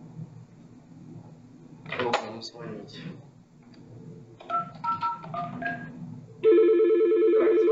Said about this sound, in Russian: Так, звонок пошел.